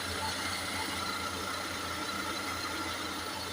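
A Toyota Hiace van engine idles steadily just after starting, a low, even hum with a smooth, constant drone and no roughness, recorded close with no voices.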